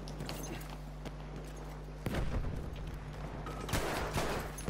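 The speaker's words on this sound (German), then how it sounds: "Müssen wir auf die Schüsse hören, woher die kommen" Gunfire in Battlefield 1 cracks in scattered shots and short bursts, mostly distant and muffled, with a louder cluster of shots partway through over a steady low game rumble.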